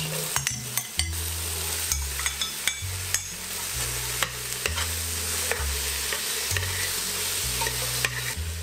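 Aromatic vegetables sizzling in a pan for hachis parmentier, a steady close fry with repeated scraping stir strokes and utensil clicks over a low hum, no talking.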